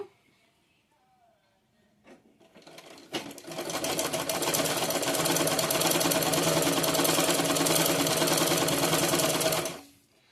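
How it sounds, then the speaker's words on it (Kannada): A treadle, leg-operated sewing machine stitches a fall onto a saree. After a few faint clicks it starts up, then a loud, steady, close mechanical whir runs for about seven seconds before stopping. "ಇದು ಲೆಗ್ ಮಿಷಿನ್ ಅಲ್ವಾ, ಸ್ವಲ್ಪ ಸೌಂಡ್ ಬಂದೇ ಬರುತ್ತಿದೆ"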